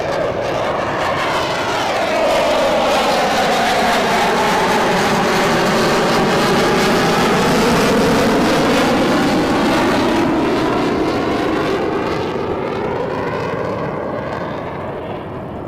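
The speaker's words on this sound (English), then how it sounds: "You can hear the F-18 now," Distant F-18 fighter jet roaring overhead above low cloud cover at a coastal airshow in Huntington Beach, its loud broadband rumble swelling and sweeping with a steady Doppler-like shift over the whole stretch, no one talking.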